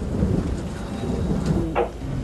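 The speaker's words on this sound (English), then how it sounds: "It's raining." Rain heard from inside a mine tunnel, with the rain falling outside, a steady loud wash of falling water filling the whole clip, with a brief brighter splash or gust near the end and no voices.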